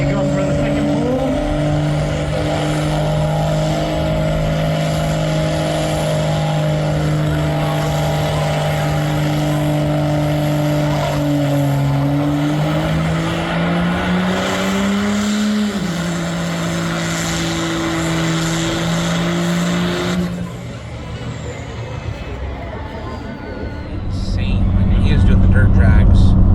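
A diesel truck makes a dirt drag race pull in a mountain stadium: a loud, close, roaring engine climbs in pitch through the run, then cuts away to crowd noise, with voices underneath.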